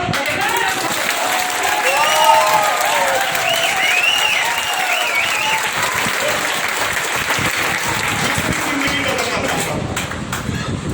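An audience claps in sustained, dense applause, loud and even across the whole stretch, with some voices and faint tonal sounds mixed in beneath the clapping.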